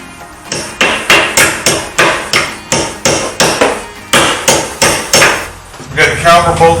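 A hammer strikes a brake caliper pin on a 2017 Corvette Z06 about a dozen times in a steady, evenly spaced rhythm, loud and close, followed by a quick flurry of lighter taps.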